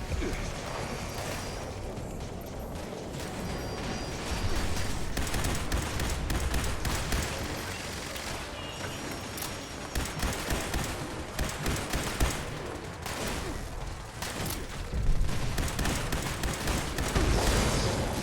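Continuous gunfire and explosive blasts fill a Fallout 76 boss fight, a dense, loud barrage of shots and booms with game voices and a player talking over it.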